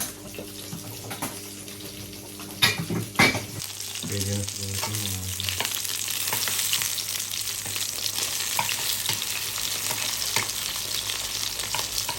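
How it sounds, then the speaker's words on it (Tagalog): Eggs fry in a pan during a home Sunday breakfast: a few utensil clanks and knocks, then a steady, close hiss of sizzling that holds for several seconds, with no voices. "Ito magluto ng itlog."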